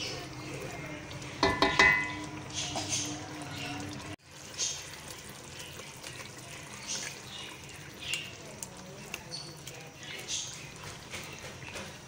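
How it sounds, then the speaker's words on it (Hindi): Spinach being stirred and sautéed in a pan for palak paneer: soft scraping, stirring and faint sizzling with a few clinks of utensil on pan, while a person talks over it. "अब इसमें पालक डालेंगे। और इसको अच्छी तरह से भुनेंगे।"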